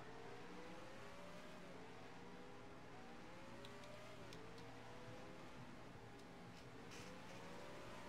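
Race truck engines from a racing video game droning steadily on an oval track during an Indy truck series race, with rising and falling harmonic whines as trucks pass, constant and fairly faint.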